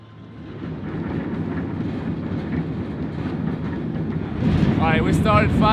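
A cargo train in Mexico begins rolling, with a steady low rumble of heavy rail cars and wheels building up and a slight swell of clanking near the end.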